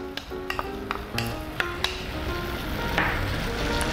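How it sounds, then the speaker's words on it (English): Beef and garlic frying in a pot give a steady close sizzle while a utensil stirs through them, with scattered scrapes and taps against the pot and no talking. "Make sure you keep stirring it."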